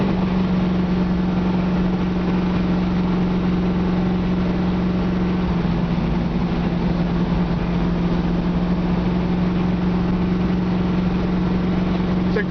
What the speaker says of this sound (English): You can hear the transmission shifts out perfect.